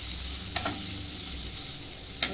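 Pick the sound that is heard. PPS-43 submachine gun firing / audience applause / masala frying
masala frying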